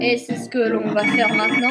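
A telephone ringing in the video game Dragon Quest Heroes: Rocket Slime, a bright repeating electronic ring heard under someone speaking French.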